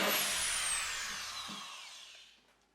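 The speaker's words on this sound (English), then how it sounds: "This Makita drywall screwdriver is excellent, and you can really dial in the depth of the screw." A Makita drywall screwdriver drives a screw into drywall in a basement room, one short high whine that winds down over about two seconds with no voices.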